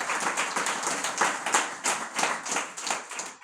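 An audience gives a welcoming round of applause for a speaker at a religious discourse session, a steady, dense clapping that holds at an even level for the full length with no voices over it.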